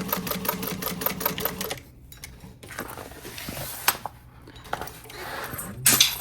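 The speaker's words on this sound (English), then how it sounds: "So I'm just going to stitch my zipper on" A sewing machine stitches a zipper onto fabric in a fast steady rhythm, pauses, then starts again in short bursts, with light clicks and handling noises nearby.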